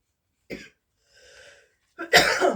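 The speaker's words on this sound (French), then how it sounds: "Pardon, j'ai encore une toux." A person coughs sharply a couple of times, close and loud, with a brief pause and a softer sound between the coughs.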